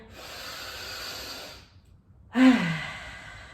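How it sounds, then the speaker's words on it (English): A slow, deep breath in through the nose followed by an exhale, then a brief pause and a sharp, louder inhalation, close and breathy with no talking. "One more deep breath in."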